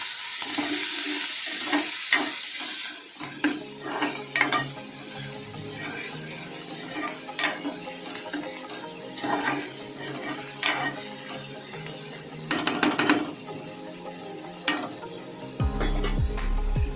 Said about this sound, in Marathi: कांदा आपला लालसर झालेला आहे तर ह्याच्यामध्ये आपण टॉमॅटो टाकून घेऊया